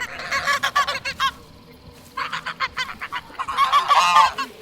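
Geese honk at a park in a series of loud, nasal calls, several birds overlapping in bursts separated by brief pauses, fairly close with a faint outdoor background.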